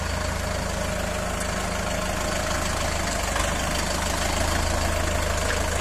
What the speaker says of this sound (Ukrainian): Їде трактор на Львівщину